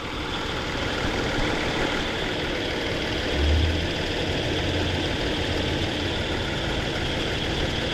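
A 2018 Kia Sorento engine idles steadily with its clutchless AC compressor spinning continuously, a constant low mechanical hum and rumble with a brief swell in the middle, no voices.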